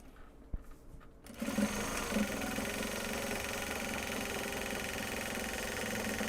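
A sewing machine starts up after a soft handling noise and runs continuously at a steady, even speed, top stitching a fabric project bag, its motor whir close and constant.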